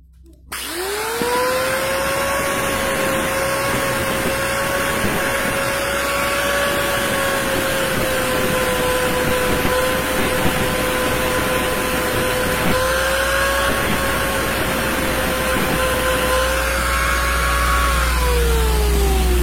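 An electric grinder sands the clutch plate lining from a Honda CRF 150, giving a loud, steady whine that runs continuously with a slight dip in pitch under load, close and with no talking.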